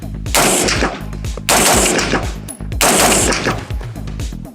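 Rapid bursts of gunfire from a budget AR-15 rifle fitted with a flash hider, loud and close, in three quick strings of shots with brief pauses between them.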